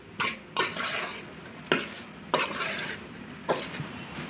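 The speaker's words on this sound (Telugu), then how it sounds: "బ్రెడ్ తీసుకున్నాం, బాగా ఫ్రై చేయండి" Bread frying in a pan with egg for a curry, a steady close sizzle broken by several sharp scraping stirs at irregular intervals.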